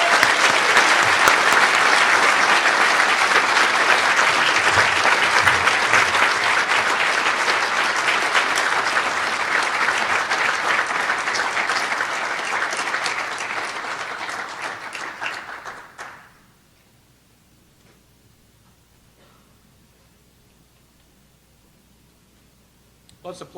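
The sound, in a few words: audience applause at an awards ceremony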